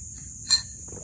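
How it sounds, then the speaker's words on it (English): Crickets chirp outdoors on a humid evening patio in a steady high trill, with one brief louder chirp rising from nearby. "I can't stand these bugs"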